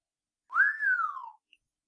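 A narrator's voice imitates a single whistle, a clear tone that slides up and then slowly down, lasting under a second and heard alone.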